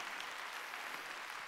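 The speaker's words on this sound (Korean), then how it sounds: "박수로 하나님께 영광을 돌려요." Church congregation applauding during a Sunday worship service, a dense continuous patter of clapping from many hands, steady and moderately distant for a brief moment.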